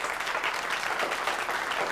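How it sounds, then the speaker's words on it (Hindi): Dense, steady clapping from an audience fills the whole short stretch, loud and continuous with no break. "तालियों की गड़गड़ाहट के साथ स्वागत कीजिए"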